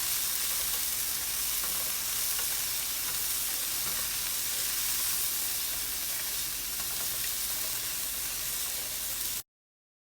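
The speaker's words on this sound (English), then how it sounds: "Going to stir this all around." Fried rice with green onion sizzles loudly and steadily in a hot pan while being stirred, a dense, continuous close-up hiss of frying that cuts off abruptly near the end, with no talking.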